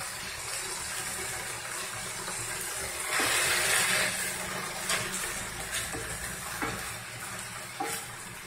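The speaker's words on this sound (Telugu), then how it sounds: "ఒక 2 నిమిషాలు వేగనిద్దాం" Mutton frying in a pan with onion-ginger-garlic paste and curry leaves, a steady close sizzle with occasional stirring scrapes and spatters.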